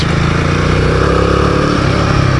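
Royal Enfield Himalayan 450 motorcycle engine under riding, a loud, steady, close drone with a continuous rumbling pulse, no talk over it.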